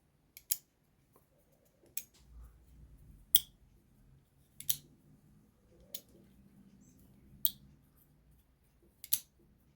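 Sharp metallic clicks repeat about every one to two seconds over a quiet, faint background as a custom handmade double-detent friction folding knife snaps open and shut.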